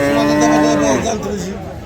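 A cow for sale at a village Eid cattle market gives one loud, close, drawn-out moo that drops in pitch and fades toward the end.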